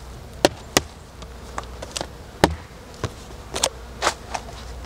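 Honey bees are shaken out of a lid and a transport box into a hive: a low insect hum runs underneath while sharp knocks and thumps from the shaking stand out several times, up close.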